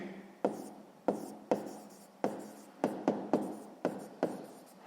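Pen on paper, close and quiet: about ten quick strokes with crisp tap onsets, each fading into a soft scratch, irregularly spaced and with no speech.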